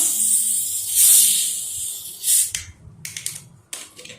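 A sharp, fizzy hiss of escaping gas comes in bursts as a chilled 7 Up soda bottle is opened, followed by softer crackles and a few small clicks up close.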